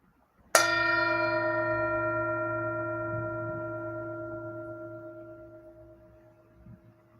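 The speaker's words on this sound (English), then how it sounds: "I'll invite the bell to sound." A single meditation bell is struck once during a mindful Bible study, ringing out with a clear metallic tone that sustains and slowly fades over several seconds in a quiet room.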